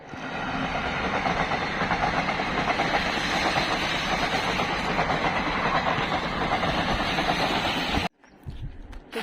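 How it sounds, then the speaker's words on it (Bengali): A train runs along a railway close by, a loud continuous roar and clatter of wheels that cuts off abruptly near the end, leaving quieter outdoor background. "দেন অল্প আগে ট্রেন গেল, আপনারা অল্প দেখলেন"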